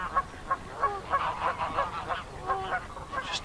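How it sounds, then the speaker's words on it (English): Geese on a lake island honk repeatedly in a loose, overlapping series, several birds calling at moderate distance with nasal, rhythmic cries. "There's quite a few geese on the island."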